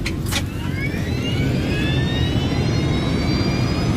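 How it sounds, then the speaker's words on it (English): An Air France jet airliner takes off from a Paris runway with a loud, steady engine roar, whining tones rising through it from start to finish. "Flight 358 powers into the sky above Paris."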